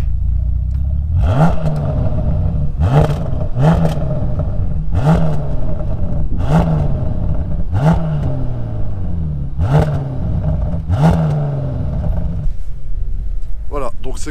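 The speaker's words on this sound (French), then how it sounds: "on veut vous faire écouter le son que fait la Bentley parce qu'ils ont fait un gros progrès par rapport aux anciennes" A Bentley Continental GT engine in sport mode, revved hard about eight times in quick succession, each loud, close burst rising sharply and then falling away.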